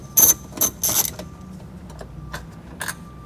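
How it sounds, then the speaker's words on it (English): A 10mm socket wrench ratchet with an extension loosens bolts inside a Toyota Camry dash, giving several close, sharp clicking bursts in quick succession followed by fainter scattered clicks, with no talking. "we'll go ahead and loosen up these two bolts."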